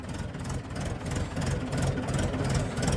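A tractor engine runs steadily in a village setting, a loud, continuous low rumble with a rhythmic knocking pulse and no pauses over the few seconds.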